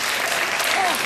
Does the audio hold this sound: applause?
yes